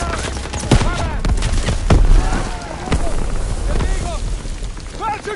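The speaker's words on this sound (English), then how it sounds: "Grenade out!" Battlefield combat in Call of Duty WWII with a grenade blast among repeated gunfire bursts, loud sharp cracks and booms spread across the scene while shouted voices and music play underneath.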